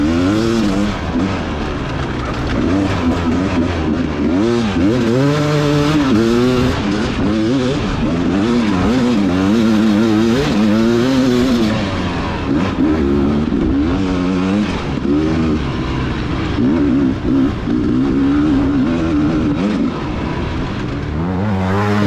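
Dirt bikes racing in a hare scramble, one a 326 machine: a loud, close two-stroke engine revs up and down continuously as the bike shifts and accelerates through the course, with other bikes faintly behind.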